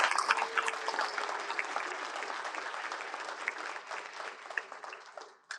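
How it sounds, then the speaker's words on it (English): Steady audience applause at a live Talmud lecture, dense clapping held at an even level for several seconds before tapering off at the end. "Everybody give her a round of applause."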